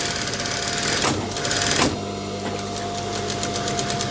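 A sewing machine stitches the side pocket of a bomber jacket, running in a steady close whir with short pauses and restarts where the seam is locked, no voices.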